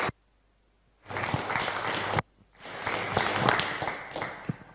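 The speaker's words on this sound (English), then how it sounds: "Big round of applause, please, guys." An audience applauds at a USSC racing-series awards announcement for the Indianapolis GP round: two loud bursts of clapping, each about a second long, broken by a sudden short silence, with some sharper individual claps standing out.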